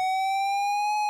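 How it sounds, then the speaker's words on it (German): A sustained, steady electronic alarm tone from the Maniac Mansion video game, a loud pure beeping pitch held evenly throughout without breaks or speech. "So, komm, mach Alarmton."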